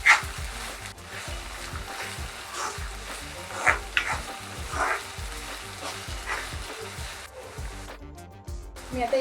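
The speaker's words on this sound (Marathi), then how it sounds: "आता हे व्यवस्थित आपल्याला परतवून घ्यायचे आहे" Two finely chopped onions sauté in a pan for chicken kheema, a soft sizzle punctuated by rhythmic, regular scrapes and knocks of stirring, close and moderately loud.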